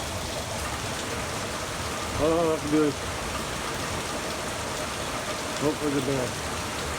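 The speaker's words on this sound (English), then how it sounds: "Rain got a little stronger, a little heavier, but not so bad. Still a steady rain." Steady rain falling outdoors over flooded pastures on a farm, a continuous even hiss throughout, with someone speaking briefly underneath.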